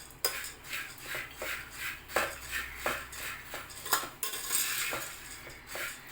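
A spoon stirs puffed grain chivda in a metal vessel, giving a run of about a dozen rhythmic clinking scrapes and rustles, close and fairly quiet.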